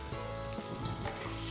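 Three-colour bell peppers and onion stir-fried over high heat in a wok, with fermented black beans already cooked for a grouper dish. The sizzle is loud, close and steady, with faint stirring underneath.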